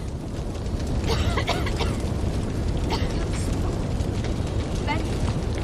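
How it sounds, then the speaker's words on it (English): A house fire in a video game roars as a loud, constant low rumble with scattered crackles and pops, heavy and unbroken throughout. "We can see Jenny waking up and realising there's a fire."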